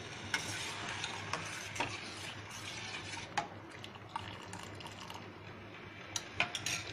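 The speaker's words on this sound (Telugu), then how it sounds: "వేసి మనం అది పాకంలాగా తయారయ్యేంత వరకు మరిగించుకోవాలి." Sugar syrup mixed with beetroot juice bubbling in a pan on a stove for rose syrup, a steady close simmer with scattered sharp clinks and spoon stirs over the boil, no talking.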